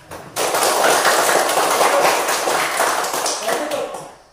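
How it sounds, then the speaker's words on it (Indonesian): Students in an elementary school classroom break into clapping that starts abruptly and runs loud and busy for a few seconds before easing off, with children's voices mixed in. "Tepuk tangan."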